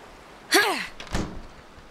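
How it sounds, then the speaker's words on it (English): A door is forced open in the video game Oxenfree, with a heavy slam followed by a second, duller thud, close and loud, with no talk. "I don't get enough breaking down doors in my life"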